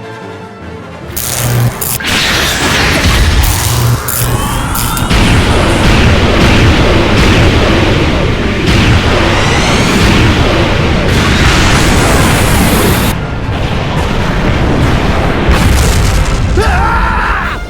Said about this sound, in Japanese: ザ・ハドロンランチャー発射準備